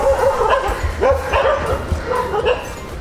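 Dogs bark and yip repeatedly late at night at Connaught Place in Delhi, a series of loud, close barks in uneven bursts, with a few whimpering notes among them.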